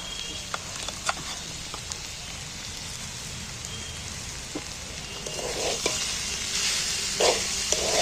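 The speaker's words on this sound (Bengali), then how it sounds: "এইবার আমি এখানে 200-250 গ্রাম আখের গুড় নিয়েছি, সেই গুড়টা দিয়ে দিচ্ছি এর মধ্যে।" Amla stirred with sugarcane jaggery in a frying pan gives a steady close sizzle and hiss with light scraping, sporadic ticks and a thicker wet stirring texture toward the end.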